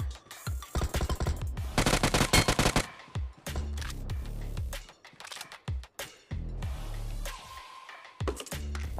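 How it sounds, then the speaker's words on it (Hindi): Rapid automatic gunfire in the mobile battle royale game BGMI on the Erangal map, with loud bursts of machine-gun fire and scattered single shots breaking up into separate cracks, without talk. "और दूर से मेरे को आवाज़ भी जा रही है गोली की"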